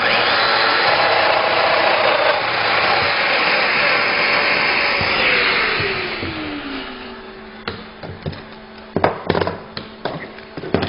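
A Festool Domino XL joiner plunges into wood to cut a mortise, a loud continuous motor whine with cutter roar that winds down after several seconds, followed by a few sharp clicks and knocks.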